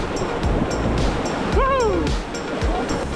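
Whitewater river rapids in Tennessee rush in a steady broadband roar, close and loud, while a brief tonal call or whistle sweeps through the middle; voices are faintly present under the churning water.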